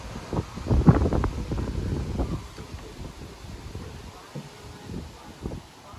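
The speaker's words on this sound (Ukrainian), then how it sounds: "У нас щось такий вітрюган піднявся на вулиці, прям страшне." Gusty wind roars and buffets the microphone outdoors, with a brief voice early on, then a steadier rushing bluster.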